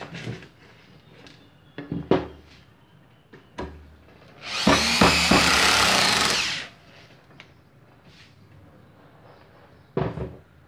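A Bosch GSR 7-14 E drill drives a screw through 30 mm wood in one loud, close whirring burst of about two seconds, framed by sharp knocks and handling clatter.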